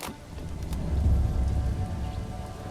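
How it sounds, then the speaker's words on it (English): Rain falls over farm crops during harvest in the medieval city-building game Manor Lords, a steady close patter with a low rumbling swell like distant thunder, no voices. "And now it's raining on the crops they're bringing in"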